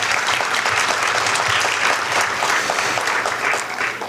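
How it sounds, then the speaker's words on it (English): An audience at a Diwali celebration applauds warmly, a sustained, fairly loud patter of many hands clapping without pause. "Let's give her a round of applause."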